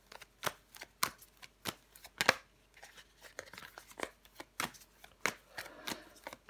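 Tarot cards are shuffled, flipped and laid down on a table in a series of quick, crisp snaps and soft slides, close and fairly quiet with short pauses between them.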